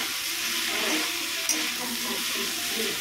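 Chicken pakoras being stirred in a pan while making chilli chicken, with a steady close frying sizzle and soft scraping stirs throughout and one brief sharp clink midway.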